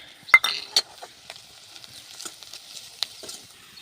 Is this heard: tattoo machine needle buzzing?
no